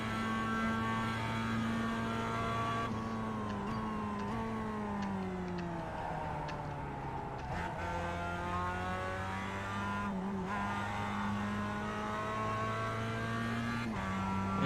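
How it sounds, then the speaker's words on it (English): A race car's engine in a racing video game drones steadily at high revs while the gearbox plays up, with pitch shifts and brief stutters from repeated gear changes that fail to engage, along with faint tyre noise. "The gearbox is certainly playing up. Lots of attempts to change gear that don't happen."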